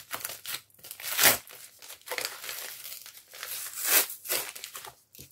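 A newly arrived package being opened up close, with loud crinkling and crumpling of packaging in uneven bursts and a tearing rip, separated by brief pauses and no speech.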